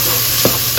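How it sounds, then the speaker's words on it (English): Ingredients for unstuffed cabbage roll bowls get stirred in a hot pan, a loud steady sizzle broken by two quick scraping strokes of a utensil, brief and close. "I'm going to go ahead and stir that in"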